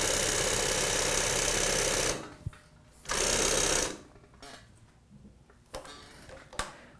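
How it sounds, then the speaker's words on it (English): An NC6 walking foot sewing machine winds thread onto a bobbin, a steady mechanical whir running in two bursts, followed by light clicks and taps as the motor stops. "that will balance out the thread evenly winding onto the bobbin"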